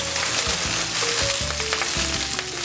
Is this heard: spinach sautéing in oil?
yes